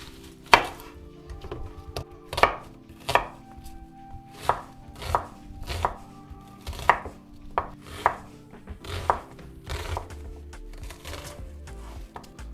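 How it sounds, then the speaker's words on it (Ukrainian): A knife chops a medium onion on a board in a kitchen, about a dozen sharp, close knocks at an uneven, unhurried rhythm. "Далі наріжемо середню цибулинку не дрібно."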